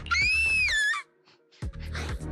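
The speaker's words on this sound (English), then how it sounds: "That scream!" A high, wavering scream from Zenless Zone Zero, heard twice in quick succession with whistle-like harmonics over a low rumble of game sound, followed by a short quiet gap before the background sound returns.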